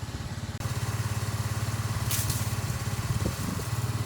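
A Honda Navi motorcycle engine idling after a cold start, a rapid steady low putter with a slightly rough, uneven beat, close and loud, with a brief hiss partway through and no talking.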